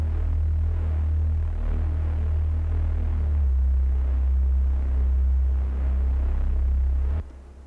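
Deep synthesized bass line from a dark electronic track remake, a loud, steady low throbbing drone with slow pulsing swells that drops off abruptly just before the end, no talking.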